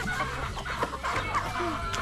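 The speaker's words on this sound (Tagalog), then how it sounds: "papakain kami sa mga manok" Farm chickens cluck close by in quick overlapping bursts over a short stretch, mixed with a busy background of other birds.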